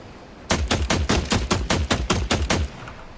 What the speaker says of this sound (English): Now the mine detonated and cleared out.